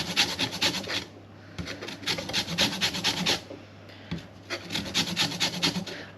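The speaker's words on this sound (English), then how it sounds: "Right, so now I'm going to do the zest of the lemon." Lemon zest being grated on a grater: steady, close rasping strokes in rhythmic bursts of quick back-and-forth scraping, with brief pauses between runs and no talking.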